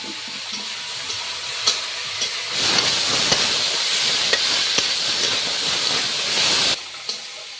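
New potatoes frying with drumstick flowers in a pan, a loud steady sizzle and hiss that surges in the middle while a utensil stirs and scrapes, then drops away abruptly near the end.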